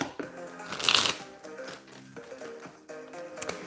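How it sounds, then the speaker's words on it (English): A new giant Rider-Waite tarot deck being shuffled by hand, close crisp riffling and sliding card sounds in uneven bursts, with a louder flurry early on. "I'm just shuffling the deck a bit because this is a new deck."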